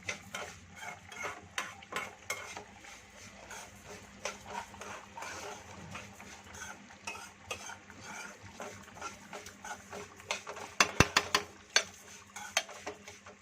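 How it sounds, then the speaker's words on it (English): A spoon stirs curd and boiled chana dal in a cooking pot for Qubooli, making repeated soft scraping and clinking strokes against the metal. The strokes get sharper toward the end, with no talking. "Don't try to mix it so hard that the chana dal starts breaking into pieces"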